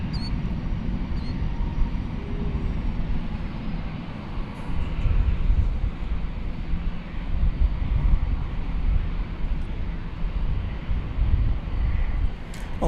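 An American Airlines jet takes off at DFW Airport in a distant, steady engine roar with some wind noise, swelling slightly in the middle, while a voice speaks faintly underneath.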